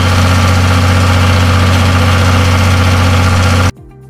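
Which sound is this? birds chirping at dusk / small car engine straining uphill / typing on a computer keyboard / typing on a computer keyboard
small car engine straining uphill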